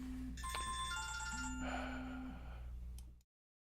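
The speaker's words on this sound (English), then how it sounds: "Oops, my phone." A mobile phone's melodic ringtone plays nearby with a repeating chiming pattern for about three seconds, then cuts off abruptly into silence.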